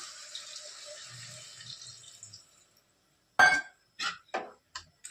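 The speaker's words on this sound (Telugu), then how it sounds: "వాటర్ వేస్తున్నాను." Water is poured into a cooking pot, a short hissing trickle that fades out, followed after a pause by a few sharp separate clinks and knocks of metal cookware.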